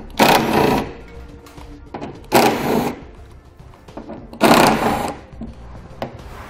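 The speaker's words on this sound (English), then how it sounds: "We'll use an 8mm socket for the ones around the sides. And a 10mm socket for the ones towards the center." A power ratchet or driver with an 8mm or 10mm socket removes fasteners from a 2014 BMW 3 Series rear fascia, three short loud whirring bursts about two seconds apart, close-up with quiet gaps between.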